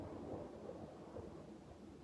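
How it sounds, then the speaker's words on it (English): Distant thunder rumbles low and faint during a tornado warning, a continuous soft rolling growl with rain-like hiss beneath it and no voices. "Yep, that was thunder, no doubt."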